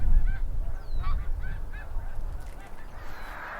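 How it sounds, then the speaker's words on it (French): Greater snow geese honk repeatedly in an outdoor marsh setting in Quebec, a flock of overlapping calls at mid distance over a low, steady rumble of wind. "La grande oie des neiges est un oiseau qui vit relativement longtemps."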